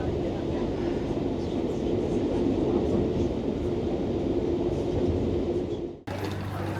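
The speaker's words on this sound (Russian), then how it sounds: "Поезд замедляет ход и выезжает на узкую каменную дамбу." Train slowing as it rolls onto a narrow stone causeway toward Lindau island, a steady loud rumble of wheels and carriage noise close by, dipping briefly near the end before the rumble resumes.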